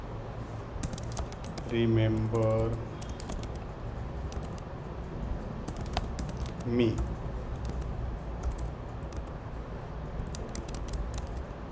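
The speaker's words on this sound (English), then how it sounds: "here you are typing" Someone types on a computer keyboard during a PHP coding tutorial. Soft, scattered key clicks come in short runs under a man's speech, which is heard a few times.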